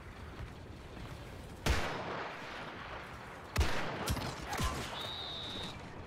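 A Tusken Cyclic Raider rifle fires in the Star Wars Battlefront II shooter, with two heavy, booming single shots a couple of seconds apart over background battle noise and a few fainter distant reports.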